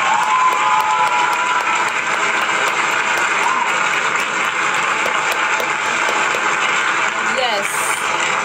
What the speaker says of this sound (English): We gotta hit an applause for that.